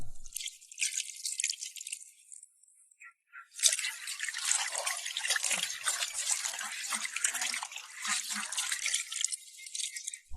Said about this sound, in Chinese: 首先把鱼夹清洗一下，这个鱼泡还是挺大的